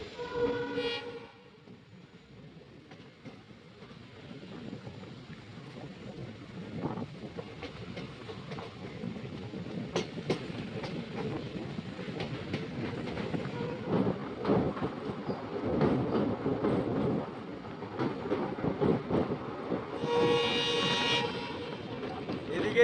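A train rolls across the Pamban sea bridge, a steady rumbling roar with rhythmic clatter that swells toward the middle, and a brief higher-pitched horn-like tone near the end; no one speaks.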